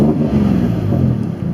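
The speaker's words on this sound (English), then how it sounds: "Revs up, fine." A car engine revs after a coil pack repair, with a steady, loud low rumble and mild rises in pitch over a short stretch, nothing else audible.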